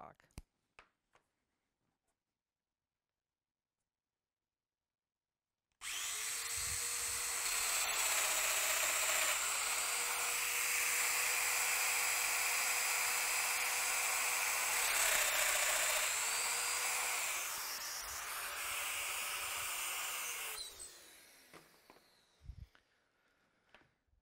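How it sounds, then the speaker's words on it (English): A Festool router cuts holes into a narrow wooden workpiece at 15 mm depth, giving a loud, steady high-pitched whine for about fifteen seconds after a silent start, with the pitch dipping slightly under load before it spins down. "Let's route the other two holes."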